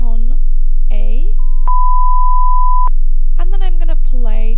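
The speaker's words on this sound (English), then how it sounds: "and then I'm gonna play tone B" A steady pure sine test tone of the kind used for tinnitus frequency matching holds for about a second and a half, alone between stretches of talk before and after.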